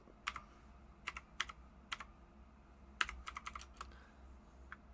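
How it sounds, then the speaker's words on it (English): Typing on a computer keyboard: a string of crisp, close key clicks in uneven short runs, quiet overall with a low background hum and no talking. "Make sure I type that in right."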